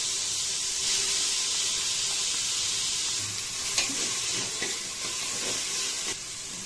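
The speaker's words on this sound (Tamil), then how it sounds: "இப்போ தக்காளி போட போகிறேன்." Tomatoes fry for a mixed vegetable gravy with a bright, steady hiss and sizzle, loud and close, as several clinks and scrapes of stirring come through toward the end, with no talking.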